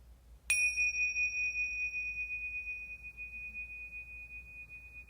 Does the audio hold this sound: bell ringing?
yes